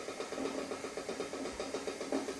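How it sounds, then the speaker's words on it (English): A low, rhythmic rumbling bubble pulses steadily as eggs boil hard in a pot, quiet and continuous with no voices. "Sorry about the noise, the eggs are boiling."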